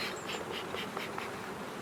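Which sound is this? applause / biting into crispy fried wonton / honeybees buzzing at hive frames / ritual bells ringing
honeybees buzzing at hive frames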